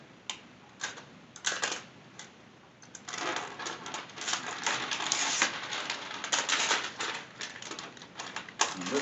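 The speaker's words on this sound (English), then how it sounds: "We are going to take off this piece of plastic." Plastic packing pieces are pulled off a Fokoos Odin 5 3D printer, producing a series of close, light clicks, snaps and crinkly rustles that come in irregular bursts and grow busier partway through.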